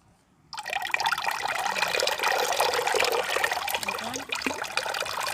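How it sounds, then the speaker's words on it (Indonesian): Water pours through pot base materials for aglaonema after a brief silence, then flows steadily and quickly in a continuous close trickling rush that persists to the end. "otomatis air mengalirnya dengan lancar dan cepat sekali"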